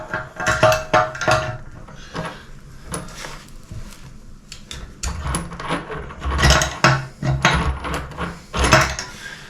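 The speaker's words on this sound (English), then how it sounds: "Instead we use a spanner." A spanner tightens a shower fitting during a bathroom shower room renovation, heard as close metallic clicks, scrapes and ratcheting knocks in irregular bursts, loud and busy, with no talking.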